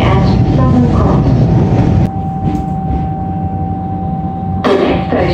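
Comeng electric Metro train pulling into Southern Cross station in Melbourne, a loud steady rumble of wheels and motors with a faint tonal whine, dropping slightly in level midway before swelling again.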